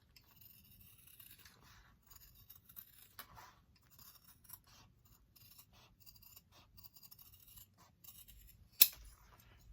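Scissors trim a fabric seam allowance on a sewing project with faint, soft snips and small scrapes at an irregular pace, then one sharper, louder cut near the end.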